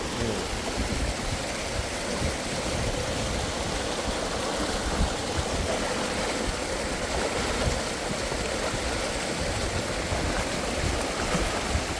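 River water rushing steadily in Kenya, a broad, continuous wash of flowing water close by, loud and unchanging in texture with no voices heard.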